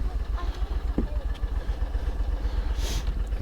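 An 8x8 Argo amphibious vehicle engine idles with a steady low, pulsing chug and some clatter, close by, with faint outdoor background.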